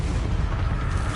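A Bombarda blasting spell goes off in Hogwarts Legacy, a continuous deep booming rumble that fills the whole short moment, loud and close with no pause.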